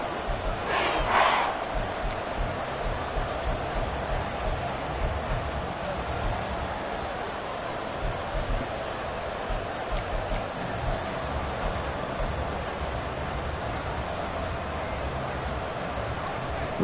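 Football stadium crowd roaring late in a game near the goal line, a broad, sustained wall of cheering with a brief louder swell near the start.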